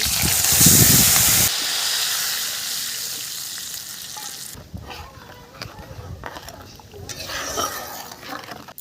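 Nigella seeds and chilli hitting hot oil for tempering, a loud bright sizzle that bursts at first and then settles into a softer, steady crackle with some stirring.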